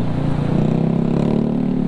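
A big bike's motorcycle exhaust gives a steady, throaty drone with a rough, pulsing engine tone, loud and close on a road ride.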